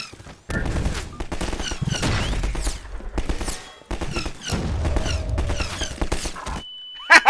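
Gunfire in Garry's Mod, with loud bursts of rapid shots broken by short pauses and a stretch of near silence before a final couple of sharp reports.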